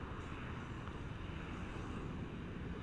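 A Honda Beat FI scooter from 2017 idles at close range with a steady, soft, even hum and no other sounds.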